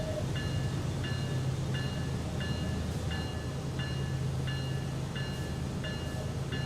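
A 160-car loaded freight train in Train Sim World 4 rumbles along under heavy strain with wheel slip, a loud continuous low engine drone and a steady rhythmic clicking repeating about every half second.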